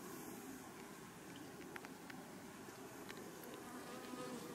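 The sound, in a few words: honeybees fanning their wings inside the hive to cool it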